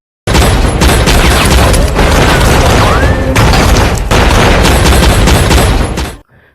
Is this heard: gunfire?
yes